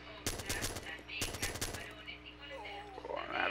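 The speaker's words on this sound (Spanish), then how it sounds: "están disparando" Automatic gunfire in Arma II co-op play: two fast bursts of rapid shots, each about half a second long and loud and close, followed by quieter ambient game sound with a voice speaking.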